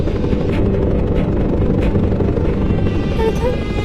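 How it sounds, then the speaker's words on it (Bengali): Steady low engine drone of a helicopter, continuous and fairly loud throughout with a broadband rumble, no clear change in distance, with a faint voice near the end. "হেলিকপ্টার কেন?"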